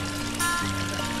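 Thermal spring water at Hot Springs National Park pours and flows in a steady, continuous rush, close and moderately loud, with no voices.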